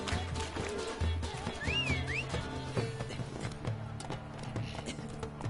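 Roach, a horse in the Witcher 3 video game, gallops with rapid rhythmic clip-clop hoofbeats running steadily throughout, joined by brief whistling game sounds and faint background voices.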